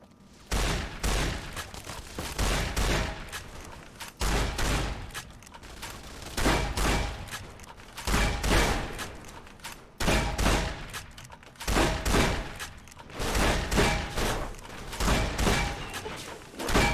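Shotgun fire in Fallout: New Vegas comes as loud repeated blasts in irregular bursts, each with a short rumbling tail, spread across the stretch with no talk.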